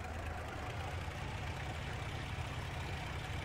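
Aircraft engine droning in the flight sim game Rise of Flight, a low, even hum holding steady at a faint level with no talk over it.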